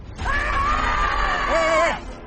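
Several people yell loudly together in a residential area during a staged fighting tournament. The raw, strained shouting is close and carries for about two seconds, with a lower voice joining near the end.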